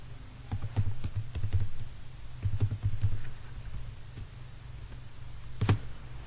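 Someone types C programming code on a computer keyboard, with close, clicky keystrokes in two quick bursts, a quieter stretch, then one last sharp press, and no talking.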